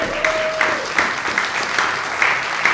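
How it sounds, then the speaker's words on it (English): A round of applause at a film festival town hall in a small theater space, steady clapping from a modest audience with a few louder accented claps, sustained and fairly close. "Big round of applause for them."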